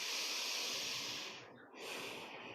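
Deep breathing during a yoga practice, heard up close: a long, airy breath fades into a short pause, then another breath begins.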